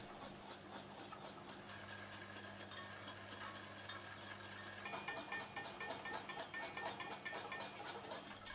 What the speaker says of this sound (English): whisk the milk into the egg mixture